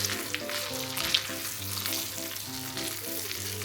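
Chashu pork sears in a pan, turned at times to brown every side, giving a loud, continuous sizzle and crackle heard close up with no talking.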